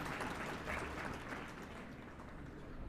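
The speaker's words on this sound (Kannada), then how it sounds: "ಒಂದು ಜೋರಾದ ಚಪ್ಪಾಳೆ ಹೊಡೆದು ಈ ತಂಡಕ್ಕೆ ಧನ್ಯವಾದ ಅಭಿನಂದನೆಗಳನ್ನು ತಿಳಿಸಬೇಕಂತ ಕೇಳ್ತೇವೆ" A large seminar audience at a district-level constitution study camp in Kolar claps loudly, with dense, sustained applause filling the whole stretch at a steady level and no voices over it.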